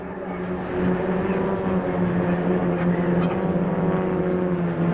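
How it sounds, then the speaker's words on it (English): Attack helicopters of a display team at the RAF Cosford air show fly in echelon, their rotors and engines making a loud, steady droning hum that holds for several seconds. "Aircraft have gone into echelon and they're about to fly what they call the waterfall"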